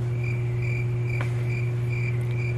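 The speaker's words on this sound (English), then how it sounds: "Am I hearing crickets chirping?" Crickets chirp in steady repeating pulses over a constant low electrical hum, with no voices.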